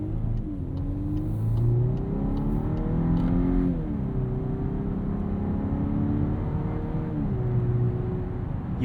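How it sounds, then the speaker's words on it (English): A 2-liter engine in a 2024 Volkswagen Atlas Cross Sport SEL Premium R-Line revs hard under acceleration, its pitch climbing steadily before dipping at each gear change, heard from inside the cabin as a continuous droning whine with no talk. "You do have to rev this 2-liter out quite a bit to get this thing going."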